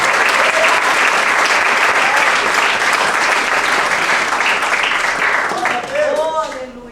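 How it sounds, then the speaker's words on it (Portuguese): A church congregation applauds loudly and steadily, a dense wash of many hands clapping that fills the space, then thins and tapers off near the end. "Confie no Senhor Jesus Cristo e aplauda o nome dele nessa noite"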